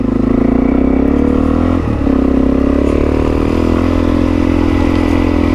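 A Suzuki DRZ dirt bike engine runs loudly up close on a bush track, a steady throbbing drone with a brief dip in revs partway through before settling back into a constant rumble.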